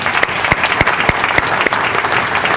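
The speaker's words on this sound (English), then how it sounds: "let's give them a round of applause" At the Bowie Public Safety Appreciation Awards, a round of applause greets standing council members. The clapping is loud and continuous, with several sharp, close claps standing out from the dense crowd sound.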